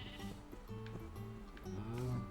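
Sheep bleating in the Minecraft video game, a few wavering bleats repeating through the whole stretch at steady loudness, with no talking over them.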